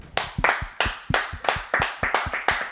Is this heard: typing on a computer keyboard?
no